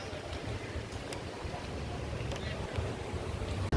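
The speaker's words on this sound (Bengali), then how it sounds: "এখানটা কি হাওয়া দিচ্ছে দেখো ধুলো উঠছে" Gusty wind buffets the microphone outdoors, a continuous low rumble with soft voices faintly underneath.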